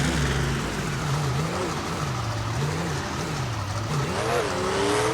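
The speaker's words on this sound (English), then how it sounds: "They're gonna go the long way around and rev those engines up for the fans." Race car engines in the Honolulu custom chaos race rev and drone continuously, pitch rising and falling in waves, loud and close.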